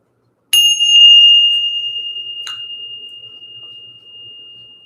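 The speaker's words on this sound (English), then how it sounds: "let's go ahead and ring the bell" A single bell or singing-bowl strike rings out clearly, its bright pure tone sustaining and slowly fading, with a second light tap about two seconds later renewing the shimmer.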